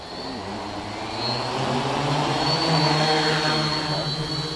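An ArduCopter quadcopter's motors spin up for takeoff and give a steady, rising electric whine with a sustained tonal hum that gets louder after the first second.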